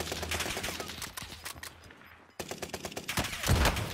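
Rapid gunfire in an online multiplayer shooter video game: dense repeated shots rattle for over two seconds, break off briefly, then resume in quick bursts ending in a heavier blast.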